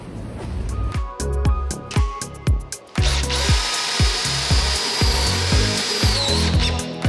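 Screws being driven with a power drill during restoration of an Opel Kadett GSI on a rotisserie, with loud close bursts of whirring and sharp clacking knocks, then a long steady high-pitched drive.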